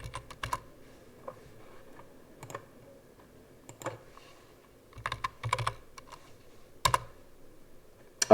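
Typing on a computer keyboard comes in irregular bursts of close, crisp key clicks separated by short pauses, with a faint background hum and no talking.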